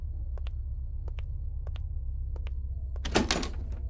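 Locked door tried in a horror video game: a brief rattling thunk near the end, over a steady low droning background with faint repeated ticks.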